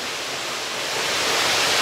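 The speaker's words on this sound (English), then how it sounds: "Now we're behind the waterfall." A waterfall heard from behind the curtain of falling water inside a large bird aviary gives a steady, loud, broadband roar that swells slightly toward the end, with no voices.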